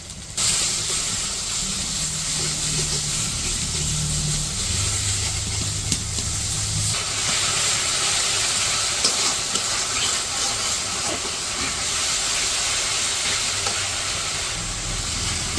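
Salt, chili powder and turmeric powder fry in a pan with ginger-garlic paste, giving a steady loud sizzle and hiss that runs unbroken throughout, with faint stirring underneath and no voices.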